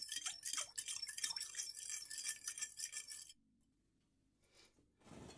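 Eggless, butterless cookie dough stirred in a bowl with a utensil: rapid, continuous scraping and clinking against the bowl for about three seconds, then near silence with a brief faint rustle.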